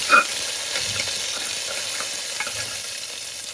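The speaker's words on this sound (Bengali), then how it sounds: "টমেটোটা একটু ভেজে নিচ্ছি।" Tomato fries in a pan with a steady, close sizzle, and a spatula stirs and scrapes it now and then.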